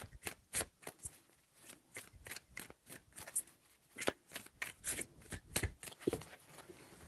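A deck of tarot cards is shuffled quietly, giving a quick, uneven series of soft snapping flicks and taps at close range.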